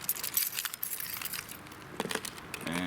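Close, bright clinks of a set of keys jangling in bursts while wiper blades are replaced on an Infiniti M37, M56 or Q70 sedan, irregular metallic rattles with no speech.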